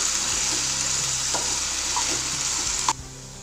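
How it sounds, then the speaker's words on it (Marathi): Potatoes frying lightly in oil over a low flame give a continuous hissing sizzle with a few soft stirring clinks, then the sizzle drops away abruptly near the end. "जास्त करपू द्यायचा नाही, तळून घ्यायचा आहे हलकासा।"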